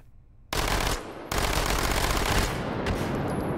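A Micro Uzi firing fully automatic in Hot Dogs, Horseshoes and Hand Grenades, two long, loud, very fast bursts close by, the first cut short after about half a second and the second running on continuously.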